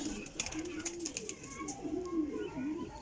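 A pigeon coos softly in repeated low, wavering phrases, close by, with faint taps and a few light background noises.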